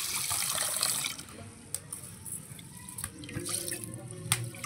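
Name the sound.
water poured over rice to soak it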